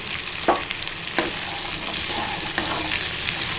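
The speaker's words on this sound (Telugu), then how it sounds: "దొండకాయ ముక్కలతో పాటు ఉల్లిగడ్డ ముక్కలు, పచ్చిమిర్చి కూడా మంచిగా ఫ్రై అవుతాయి." Ivy gourd pieces fry with chopped onion and green chillies in a pan, giving a steady close sizzle broken by a few scraping stirs.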